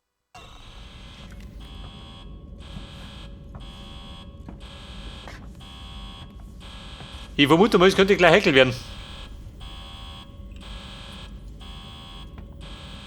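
A repeating alarm tone pulses steadily in evenly spaced bursts through a tense scene in the video game Alien Isolation, at the San Cristobal medical station, while someone talks briefly over it.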